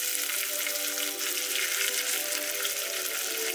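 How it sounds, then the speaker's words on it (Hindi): Ginger tossed into dal already sautéing in hot oil sets off a loud, steady sizzle with a crackling hiss that fills the space, close up and continuous, with no talk. "पहले ऑयल हमारा हॉट हो चुका था, हमारी दाल थोड़ी सी सॉटे हो चुकी है. इसी में हम टीस्पून ऑफ जिंजर ऐड कर लेंगे"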